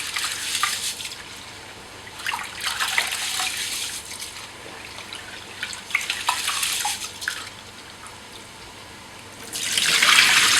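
Basmati-style biryani rice is washed in water for chicken pulao, giving soft sloshing, splashing and dripping close by, with a louder running-water swell at the end and no speech.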